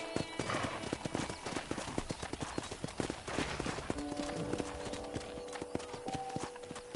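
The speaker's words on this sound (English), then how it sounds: "let's see if you can still ride a horse" Horse hooves in Red Dead Redemption, a rapid, regular clip-clop of riding on ranch ground, close and clear, with faint background tones in the second half.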